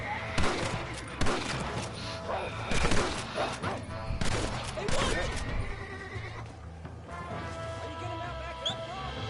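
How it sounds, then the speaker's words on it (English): Shootout gunfire in the video game Red Dead Redemption: a scatter of sharp shots and volleys crackles over horse whinnies and hoofbeats, with voices talking throughout. "They're coming at us! Come on, shoot them then, John."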